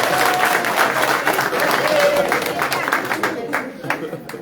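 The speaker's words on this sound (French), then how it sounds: "Alors applaudissez un peu déjà là" Audience applause fills the hall at an official welcoming ceremony for a Chinese delegation in the Comoros, a steady dense clapping that carries on throughout, with some crowd murmur mixed in.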